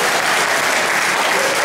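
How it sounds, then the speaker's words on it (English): Dense, loud applause fills a town hall meeting on crime, a continuous wash of many hands clapping at once with no break, close and evenly sustained. "go ahead and clap. It's all right."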